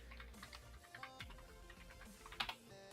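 Fingers tap out a quick, uneven burst of keystrokes on a computer keyboard, close and fairly quiet, alone.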